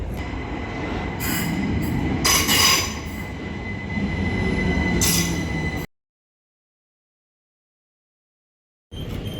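A Southern train rumbles and rattles through a Kent coast station with squealing wheels and hissing bursts, then cuts to silence before the noise resumes briefly.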